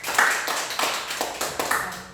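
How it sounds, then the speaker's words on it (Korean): A church congregation gives a brief round of clapping during a service, a few quick uneven bursts of claps heard up close. "박수"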